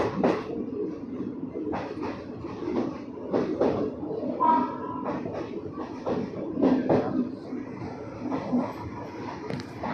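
A train rolls along the railway track through a trackside community in Thailand, with repeated rhythmic wheel clatter and rumble over about ten seconds and faint voices in the background.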